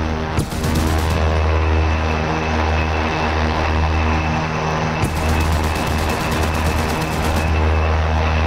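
Propeller engines of an OV-10 Bronco in the DCS flight simulator, a loud, steady droning roar with constant pitch throughout, broken by a couple of sharp transient bangs.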